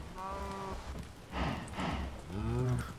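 A cow in a blocky sandbox video game moos twice, long drawn-out lowing calls with a pause between, heard clearly over a steady background hiss.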